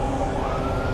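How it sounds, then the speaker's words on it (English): An ambulance siren wails loud and steady near a street protest, a continuous high tone filling the air with no talking. "Ambulance."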